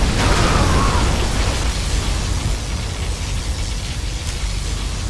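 A particle cannon discharge and explosions in Command & Conquer Generals Zero Hour: an initial loud booming burst with a short whining sweep, then a sustained, slightly quieter roar of rumbling destruction continuing to the end.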